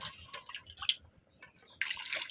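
Cold water from a tap splashing and dripping over boiled eggs in a home kitchen, heard as intermittent bursts with a louder steady pour near the end; no one speaks.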